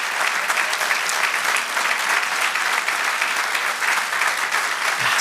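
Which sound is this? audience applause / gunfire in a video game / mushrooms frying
audience applause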